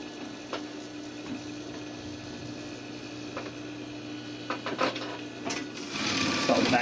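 A sewing machine stitches a blazer pocket and starts with a back tack. It gives a quiet, steady mechanical whir with light ticking, and it grows louder toward the end.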